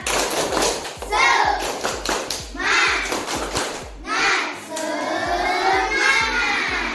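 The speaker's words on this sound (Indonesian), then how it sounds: "Kita mulai tepuk semangat" Children in an Indonesian classroom chant the tepuk semangat routine, voices rising in bursts over a steady beat of rhythmic hand claps, close and loud, with an adult voice leading between phrases.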